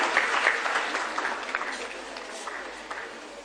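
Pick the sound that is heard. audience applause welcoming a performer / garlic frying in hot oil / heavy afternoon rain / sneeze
audience applause welcoming a performer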